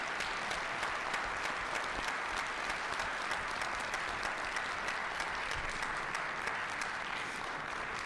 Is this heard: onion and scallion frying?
no